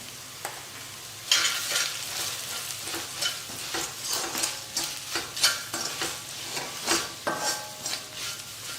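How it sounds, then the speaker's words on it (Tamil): Chili powder and salt are stirred into a bubbling kuzhambu of dried manathakkali berries, a close sizzle overlaid with repeated scraping and knocking strokes of a spoon against the pan. "மிளகாய் தூளை நல்லா கலந்து விட்டுட்டு"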